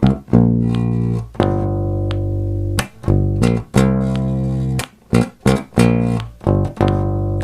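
An electric bass plays a basic lick in G, loud and close, with sustained low notes broken by short muted gaps and quick repeated plucks, no talking over it.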